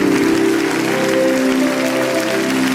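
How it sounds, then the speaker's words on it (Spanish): A large church congregation claps loudly and continuously, dense sustained applause filling the space. "que se escuche ese aplauso"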